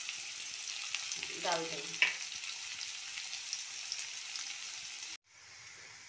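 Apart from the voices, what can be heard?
onions added to hot oil, frying and sizzling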